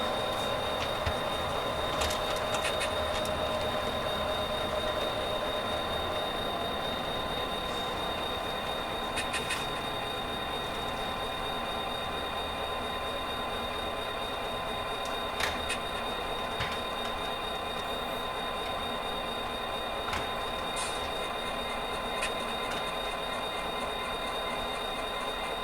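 A train rolls past on railroad tracks, a steady loud rumble of rail cars with wheel squeals and metallic clanks scattered throughout, heard alone without talk.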